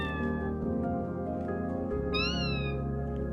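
A robot with artificial intelligence imitates a cat's meow, a sustained, tonal electronic mew with a rising-falling pitch sweep near the end, heard alone and fairly close.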